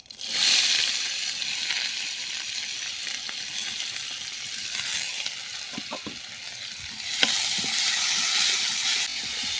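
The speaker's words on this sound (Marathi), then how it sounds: "आता यामध्ये आपण कांदा टाकून घेऊया." Chopped onion dropped into hot oil over mustard seeds and cumin in a kadhai, giving a loud, continuous close sizzle with occasional stirring clicks, on a wood-fired stove; no speech.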